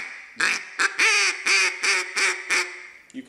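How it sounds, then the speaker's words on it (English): A single reed timber duck call blown in a run of about seven sharp, raspy quacks, loud and close, with short gaps between them and no talk. "It's a single reed timber call"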